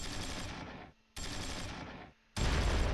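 Bursts of automatic gunfire from tanks and infantry in the World War II strategy game Close Combat III, two dense rattling volleys broken by short gaps, then a heavier louder barrage starting near the end.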